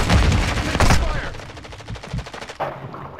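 Rapid automatic gunfire from a shooter video game, loud and dense bursts crackling through most of the stretch, with a few heavier shots near the end and a voice talking briefly underneath.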